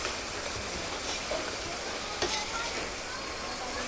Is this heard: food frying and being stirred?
yes